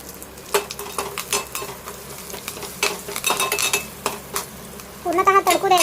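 Curry leaves crackle and sizzle in hot oil in a pan while tempering, with a spoon clinking and scraping against the metal, a busy, close clatter of stirring that grows louder near the end.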